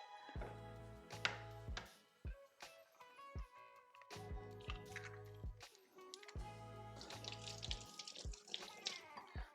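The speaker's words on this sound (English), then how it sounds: "Egg rinse." Eggs rinsed under a running kitchen tap, a steady flow of water with clunks and splashes as they are handled, fairly quiet and close, with no speech.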